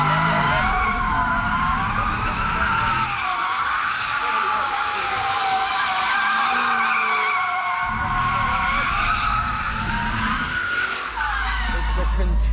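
A car drifting at the Goodwood Festival of Speed, with long, loud tyre squeal wavering in pitch over engine roar, heard close from a passenger's perspective with excited voices talking over it.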